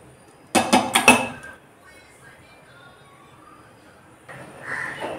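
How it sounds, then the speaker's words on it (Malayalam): Washed basmati rice tipped into a pot of boiling water for Arabian kabsa, giving a short burst of clattering, rattling pot noise near the start and a softer rustling swish toward the end. "ഇനി നമുക്കിതിൽ കഴുകി ഊറ്റി വെച്ചിരിക്കുന്ന അരി ചേർത്ത് കൊടുക്കാം."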